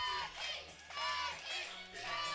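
Wrestling crowd cheering as Chucky Smooth enters the ring at the PTW Last Stand 2016 event, a fairly faint, steady roar of a mixed audience rising and falling in waves, with a few higher shouts mixed in.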